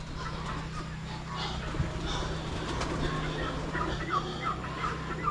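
Soft pigeon calls and faint cooing over a steady low hum and outdoor background noise, fairly distant and quiet throughout.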